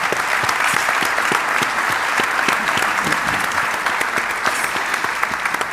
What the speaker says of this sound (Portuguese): Só uma salva de palmas, por favor, também.